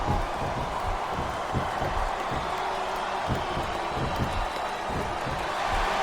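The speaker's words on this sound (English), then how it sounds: "Listen to the crowd, JR." A large crowd in a wrestling video game, WWE SmackDown vs. Raw 2007, roars steadily throughout, a dense continuous wash of cheering and noise at a distance with no pauses.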